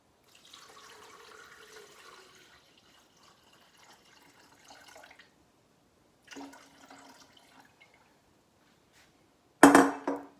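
About 4 cups of water runs and splashes steadily into a container for several seconds, stops, briefly resumes, then ends with a loud close splash.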